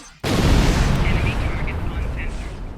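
Sudden loud blast as a console explodes in Star Trek Online, an abrupt boom followed by a sustained roaring rumble that slowly fades, with faint higher tones sounding over it.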